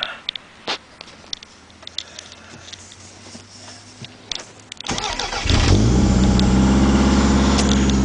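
Car with a PowerFC engine computer and a check engine light fault: keys clicking in the ignition, then the engine cranks, catches and settles into a loud, steady close-up idle.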